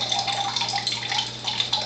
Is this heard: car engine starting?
no